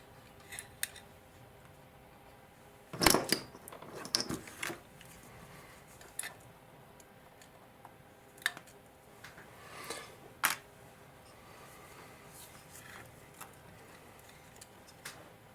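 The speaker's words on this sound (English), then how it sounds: "So I'm going to snip the plug off." Wire cutters snip the plug off a fan wire on a 7mm O gauge model locomotive, giving one sharp close click followed by scattered faint ticks and small handling taps over a quiet room.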